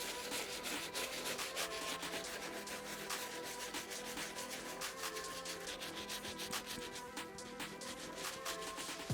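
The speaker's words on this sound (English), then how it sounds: "I'm gonna dunk it in some solution and brush in a circular motion all around the sneaker" Soft bristle brush scrubbing a Travis Scott Jordan sneaker with cleaning solution, a quiet, continuous close-up scratchy rubbing with quick repeated strokes.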